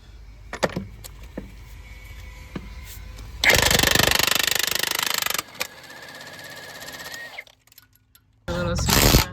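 A compact 1/4-inch impact wrench (gun) set to power level 4 rattles out loud hammering bursts between quieter idle stretches, with a long sustained run in the middle and another close burst at the end.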